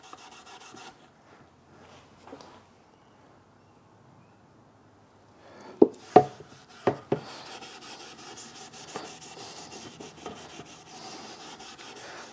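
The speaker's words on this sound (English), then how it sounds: "The reason I like using steel wool is it actually abrades the timber and very gently cuts into it" Steel wool rubbing tung oil into timber for a footstool, a soft close scratchy abrasion with a few sharper scrubbing strokes midway, then steady continuous rubbing alone.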